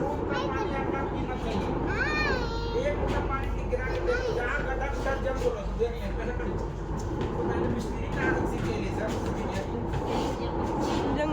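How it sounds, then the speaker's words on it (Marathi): Inside a moving Delhi metro train heading to Karol Bagh: a steady low rumble and rattle, with people chattering and an occasional high squeal from the wheels. "बसलो आम्ही आता मेट्रोमध्ये आणि चाललेलो होतो आता आम्ही करोलबागच्या दिशेने"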